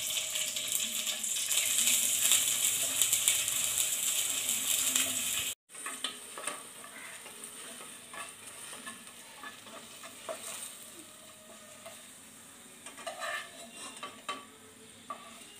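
Cashews and raisins fry in ghee in a pan for carrot and banana halwa, starting with a bright, loud sizzle. After a brief cut, quieter frying and stirring continue with occasional scrapes.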